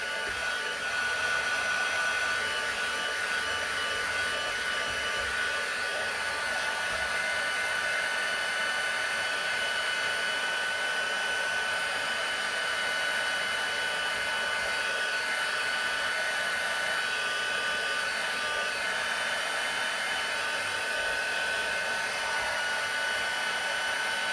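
Hair dryer blowing steadily and close for the whole stretch, a constant loud whir drying paint on a handmade Halloween card, with no talk over it.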